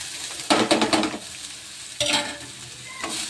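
Onion frying in a pan with ground chilli paste while a spoon stirs it: two bursts of scraping and sizzling over a soft, steady hiss.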